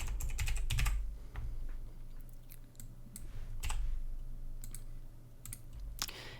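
Rapid keyboard typing and clicks on a computer while renaming a clip in Premiere Pro, bursts of keystrokes spread across the whole stretch over a low steady hum, close and fairly quiet.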